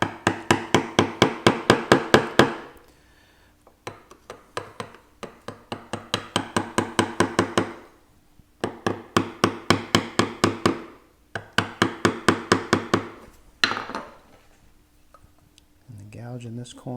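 A mallet strikes a wood-carving gouge in rapid, evenly paced bursts of sharp knocks while Gothic tracery is carved by hand, with short pauses between the runs.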